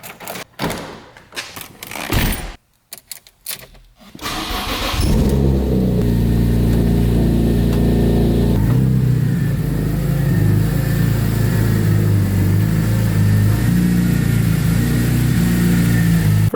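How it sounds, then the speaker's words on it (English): A BMW M3 engine starts up outside after some knocks and clatter, then runs steadily at a loud idle, close by, with a low constant rumble. "First thing I've done is pull the car on outside."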